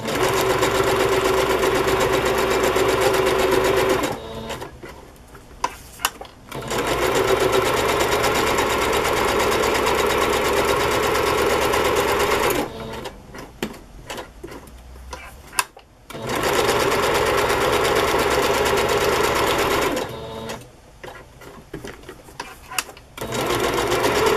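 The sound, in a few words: sewing machine stitching a junk journal embellishment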